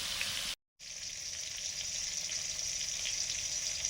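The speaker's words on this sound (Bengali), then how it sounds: "আগে মিষ্টি কুমড়োটা ভাজছি" Pieces of sweet pumpkin sizzle steadily in hot oil in a pan, a continuous close-up hiss broken by a brief silent cut near the start.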